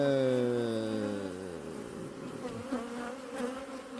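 A crowd of honey bees buzzes loudly at an opened hive in late August, a dense, steady drone with shifting harmonic tones that wavers and thickens as the colony grows agitated.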